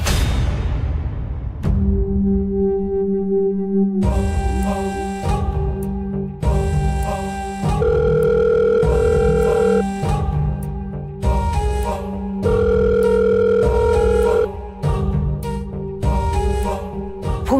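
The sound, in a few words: phone call ringing tone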